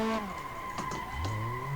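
A KE70 Corolla with a turbocharged 4AG 20-valve engine in the Assetto Corsa video game, engine droning steadily with rising pitch, tire squeal and skidding layered in throughout, alone with no talking.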